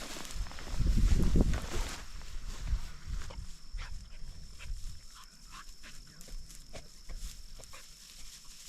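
A hunting dog moves around close by in the outdoors during a duck hunt, its footfalls and rustling heard as a loud burst at first and then softer scattered thumps, without talking.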